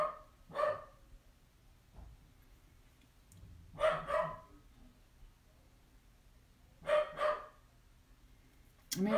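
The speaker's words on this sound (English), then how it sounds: "She doesn't stop barking." A dog barks in three separate bursts spaced a few seconds apart, with another starting at the end, moderately distant against a quiet background.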